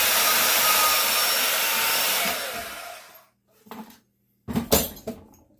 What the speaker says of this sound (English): that bandsaw right there works excellent for this. Super fast, brass, mixed brass, #2 copper in just a few seconds